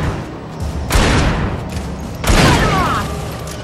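In the video game Alan Wake, gunshots hit Taken enemies on a farm as two heavy, booming blasts with rumbling tails, set about a second and a half apart.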